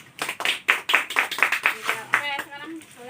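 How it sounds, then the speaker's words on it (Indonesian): Classmates clap for a student in an Indonesian classroom, a quick run of distinct, fairly close hand claps with children's voices talking and calling out over them. "Sekarang kasih tepuk tangan buat temennya."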